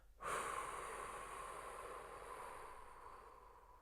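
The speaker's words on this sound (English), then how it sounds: "Inhaling through the nose for a count of 5. And hold, hold, and exhale through the mouth." A long, steady exhale blown out through the mouth during a slow breathing exercise, starting abruptly and trailing off gradually over several seconds, close and alone with no talking.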